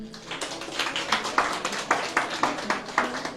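Audience applause at a health centre event, a short burst of scattered hand clapping, moderately distant, with individual claps audible in an uneven rhythm.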